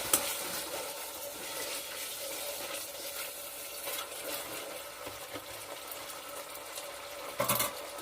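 Spicy Thai chili sauce stirred in a hot pan, a faint continuous sizzle with soft scraping and a few small clinks near the end, no talk.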